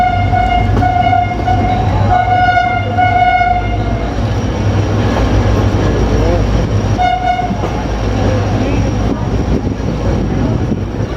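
Train rolling along the railway at Kotri Junction, a steady loud rumble with tonal horn-like blasts early on and again near the end, continuous throughout.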